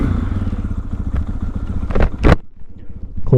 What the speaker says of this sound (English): Starts up, idles really well.